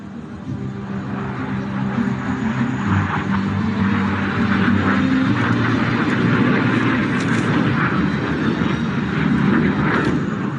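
A HAL Tejas fighter jet performs a flying display at the Dubai Airshow, its engine producing a loud, sustained roar that swells steadily over several seconds without speech.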